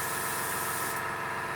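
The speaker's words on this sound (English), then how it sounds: "it's a great little compressor" Fengda FD-186 mini compressor driving an airbrush, a steady close hiss of sprayed air over a low motor hum, with the hiss dropping partway through while the compressor keeps running.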